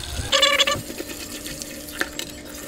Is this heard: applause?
no